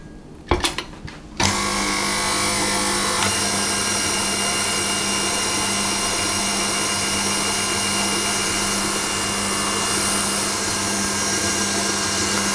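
An electric hand mixer whirs continuously through pound cake batter in a bowl after a couple of short clicks and bursts at the start, holding a steady, loud, close motor drone throughout.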